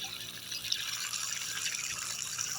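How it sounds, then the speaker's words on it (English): Water pours steadily into a homemade 5-gallon bucket pond filter, a soft, even splashing rush that stays constant and fairly quiet with no one speaking. "You can see the water going in there."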